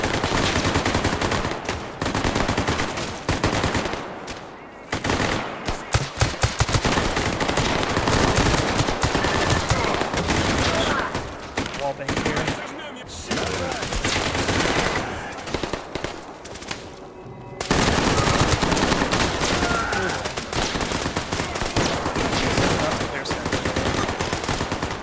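Heavy gunfire in the Stalker Gamma shooter game: loud, dense bursts of automatic fire and single shots from several weapons, nearly continuous with brief lulls, close and overlapping.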